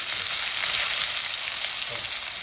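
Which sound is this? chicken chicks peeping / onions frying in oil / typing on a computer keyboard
onions frying in oil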